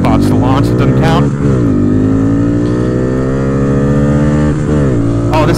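A 2022 Honda Grom motorcycle fitted with a DHM cam, intake and ECU flash accelerates hard uphill from a standing launch, its loud engine note climbing steadily through the gears with brief dips at shifts, close to the rider's microphone.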